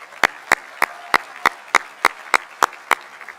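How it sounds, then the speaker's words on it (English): Audience applause at a Class of 2023 high school graduation ceremony at Nathan Hale-Ray, heard as loud, regular claps, about three per second, standing out over a softer crowd wash. "Please join me in a final round of applause for these individuals as well."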